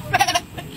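A text-to-speech voice imitates a sheep while singing, giving a short, wavering bleat-like 'baa' made of a few quick pulses. It is fairly loud and heard alone.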